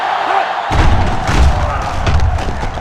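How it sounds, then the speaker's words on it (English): Virtual stadium crowd in the NCAA 06 football game, Auburn at LSU, swells into a loud, sustained roar with booming thuds, beginning abruptly after a quieter opening. "this crowd is going absolutely insane"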